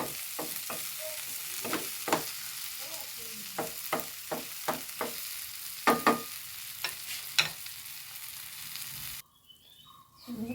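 Ground tomato masala cooks in a pan with a steady close sizzle, punctuated by repeated sharp scrapes of a spoon stirring, before the sound drops away near the end.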